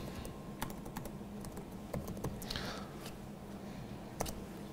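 Keys clatter on a computer keyboard as Python code is written, with sparse, quiet keystrokes and a few brief runs over a soft room hum and no voices.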